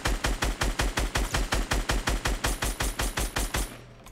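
Rapid automatic gunfire in the video game Fortnite, a steady fast burst of about twenty evenly spaced loud shots that stops abruptly near the end, heard alone without talk.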